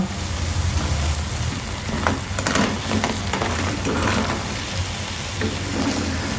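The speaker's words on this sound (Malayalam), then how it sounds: "ഗോൾഡൻ കളർ ആവുന്നിടം വരെ ഒന്ന് വറുത്തെടുത്താൽ മതി കേട്ടോ." Idli-batter bonda balls deep fry in hot oil with a steady, close sizzling crackle that continues without a break.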